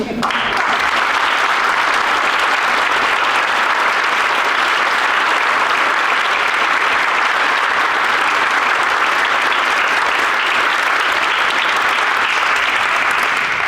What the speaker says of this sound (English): please stand and receive some greatly needed applause.